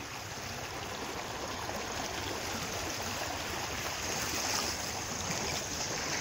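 Water rushes and flows steadily during a rat snake rescue, making a continuous, fairly faint wash of noise with no breaks.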